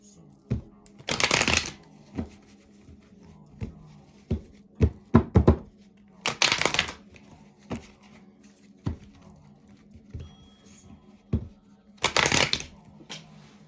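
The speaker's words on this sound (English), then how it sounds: "I'm going to pull a mystery card for you guys" Tarot cards shuffled by hand in three loud bursts of riffling, separated by scattered taps, knocks and soft handling thumps in a quiet room.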